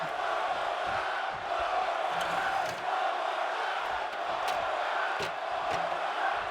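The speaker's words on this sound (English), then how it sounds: "Crowd telling Seth one more time." A large wrestling arena crowd chants and roars in a continuous, dense wall of voices, steady and loud with slight surges throughout.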